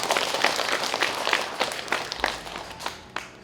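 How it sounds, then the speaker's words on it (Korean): Audience applause at a Chuncheon recitation and arts event following a classical guitar and flute duet, a dense wash of many hands clapping steadily at moderate volume, with no voice over it. "다시 한번 큰 박수 부탁드립니다."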